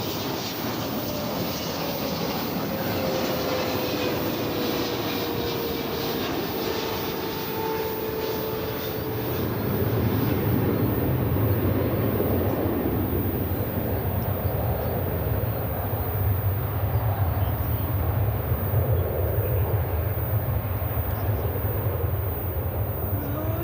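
An American Airlines jet takes off at Dallas Fort Worth, a steady moderate engine rumble that grows heavier and lower partway through, with a faint whine sweeping across early on and some quiet talk.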